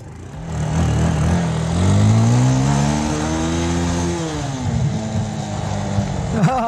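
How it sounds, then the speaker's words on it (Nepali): A motorbike on a village road starting and revving, the engine catching then rising in pitch through a long rev before settling to a steady idle, loud and near, with a brief clatter at the end. "धन्न स्टार्ट चाहिँ भयो यार बाइक"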